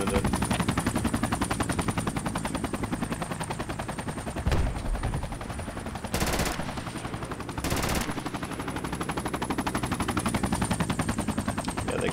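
Video game gunfire from a hilltop position, long sustained rapid automatic bursts rattling almost without pause, loud and close, with a few heavier cracks and brief louder pops cutting through, no talk.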